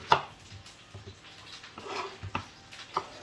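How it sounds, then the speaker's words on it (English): A knife chopping onions on a board, a few irregular thuds spread out, faint and close, with light clatter between strikes. "You don't see people chopping onions very often"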